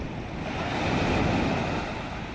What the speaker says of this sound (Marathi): आणि आपण पोचलोय समुद्रावर